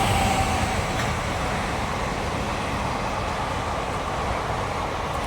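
A train bound from Gujarat to Mumbai rolls past nearby in the early morning, a steady, loud rumble and clatter of wheels that holds level throughout.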